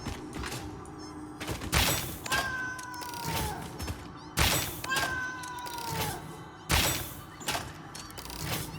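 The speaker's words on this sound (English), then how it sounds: "That's a lot of cats." Several cats in the video game Satisfactory meow repeatedly, rising and falling cries that come in clustered bursts alongside sharp clicking impacts, fairly close and recurring every couple of seconds with no talk over them.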